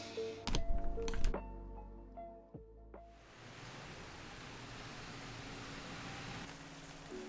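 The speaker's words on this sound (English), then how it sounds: "This is a rainy morning here in Tokyo." Rain falls on a morning in Tokyo, a steady, even hiss that takes over after a few seconds of indoor clatter and knocks.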